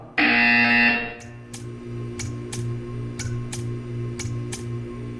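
Loud harsh buzzer in a Valve video game, one sustained blast lasting about a second, followed by a low hum and a series of sharp ticking clicks at irregular intervals.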